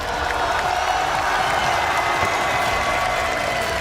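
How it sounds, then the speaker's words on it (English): Crowd at a League of Legends esports event applauds the HLE team on stage, a dense, steady wash of clapping and cheering that fills the hall from start to finish. "Mesdames et messieurs, on peut applaudir HLE2,"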